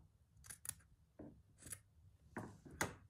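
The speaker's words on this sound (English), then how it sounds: "Let's trim that off." Scissors snipping through fabric on a stitched Christmas journal, with several quiet, close, separate cuts in quick succession.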